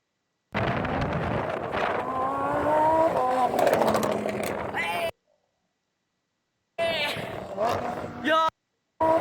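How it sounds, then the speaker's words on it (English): Cars pass by at a Maserati car show, engines rising and falling over several seconds amid heavy wind buffeting on the microphone, with a brief silent gap and people talking excitedly nearby. "There was like some cars like passing by"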